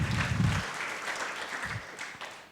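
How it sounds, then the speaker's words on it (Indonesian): Applause from a church congregation during an online worship service, a short burst of clapping that is louder at the start and then thins out toward the end. "Yang setuju berikan tepuk tangan yang meriah buat Tuhan kita."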